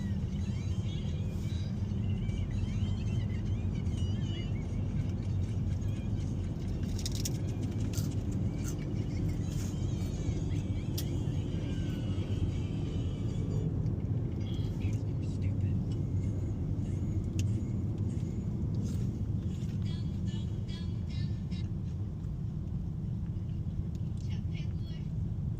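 Steady road traffic rumble from cars on a busy Mother's Day drive, a continuous low engine and tyre drone heard from inside a moving vehicle, with faint voices now and then.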